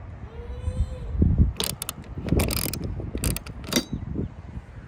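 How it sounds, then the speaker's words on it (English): A socket wrench ratchets on hex bolts inside a roof rack anchor on a Lexus GX550 Overtrail, giving several short bursts of close metallic clicking among handling clatter. "I loosened that a little bit more just with the socket in my hand"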